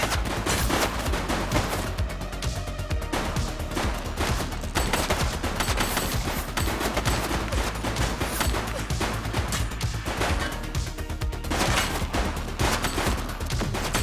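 Dense, continuous gunfire in the police video game The Precinct, with rapid overlapping shots and bursts forming a loud, sustained barrage throughout.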